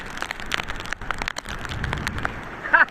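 Heavy rain pours during traditional net fishing in the Philippines, a continuous close hiss of drops pattering on water and surfaces, with a brief louder splash near the end and no voices.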